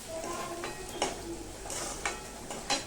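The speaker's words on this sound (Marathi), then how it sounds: "आता यातली थोडीशी खुरासणीची चटणी आपण या कांद्यामध्ये घालून घेऊया आणि छान हलवून घ्यायचं" Garlic and niger seed chutney stirred into onions frying in a pan, with soft scraping strokes and a few sharper metal clinks about once a second over a low sizzle.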